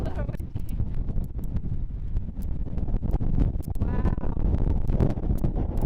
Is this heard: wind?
yes